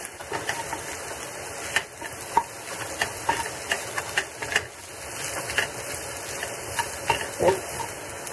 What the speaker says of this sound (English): see how that oil is just going through the tortillas, the strips of tortilla